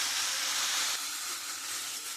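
Ash gourd hits a hot pan with fried ginger, giving a steady, soft hiss of sizzling oil that holds evenly and then settles slightly quieter.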